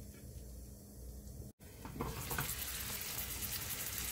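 Cabbage and cheese pancake frying in a little oil in a covered pan over very low heat, giving a steady soft sizzle with a brief dropout, then a brighter, louder crackle as more oil meets the pan.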